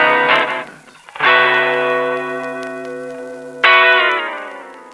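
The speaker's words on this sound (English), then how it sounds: "Number one, short delay. Often called a slapback or even just slap." Two bright, ringing chords, each thickened by a short slapback echo that doubles the attack and trails off with reverb; no voices.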